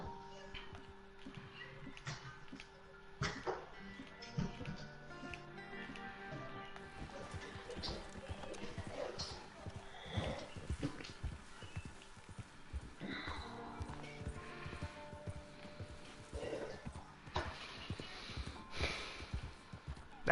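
Clip-clop of a default horse's hooves in Red Dead Redemption 2, with a neigh or snort mixed into quiet game ambience.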